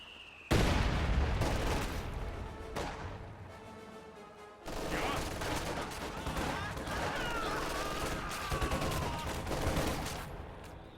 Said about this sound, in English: Taking mortar fire.